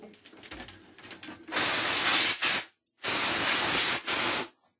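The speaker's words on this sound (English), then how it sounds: "now what we're going to do is get some compressed air. And we're going to blow this all out." Compressed air blasting dust out of a vacuum cleaner during servicing: two loud, sustained hissing bursts of about a second each, with a short sputter between them, following quieter handling noises.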